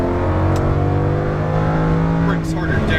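A Lamborghini Huracan LP610-4 engine revs hard and accelerates close by on a track, with a loud, rising roar throughout.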